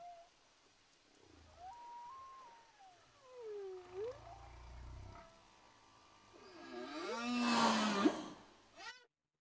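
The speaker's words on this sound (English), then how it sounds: "Whale." A whale vocalizes in a series of long, gliding moans and whistles that rise and fall in pitch. The calls build toward a louder, harsher burst near the end.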